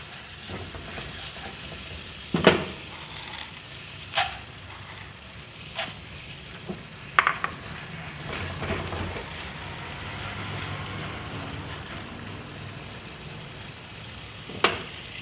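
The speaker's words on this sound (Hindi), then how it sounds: "और इसके अंदर कॉर्न डाल देंगे, मिक्स करेंगे।" Corn kernels stirred with salt in a hot pan for homemade popcorn, a low steady scraping sizzle broken by several louder clacks and scrapes of the spoon against the pan, with no talk.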